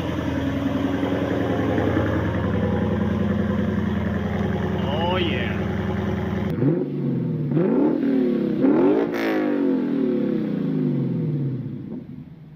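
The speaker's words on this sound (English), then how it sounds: "amazing sound for basically just muffler delete and secondary cat delete." Lexus GS F V8 with muffler and secondary cat deleted, a loud steady exhaust drone that drops off then surges in several rising revs, with a brief voice over it.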